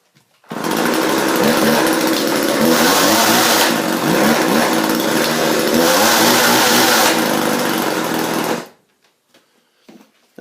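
A Husqvarna 136 chainsaw runs steadily and loudly after a brake band replacement, its engine note rising and falling slightly before cutting off, leaving near silence.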